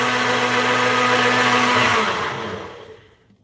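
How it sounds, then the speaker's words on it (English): An electric whisk or blender whips eggs for an omelette with a steady high whir, close and loud, then winds down and stops near the end. "Our egg is whipped."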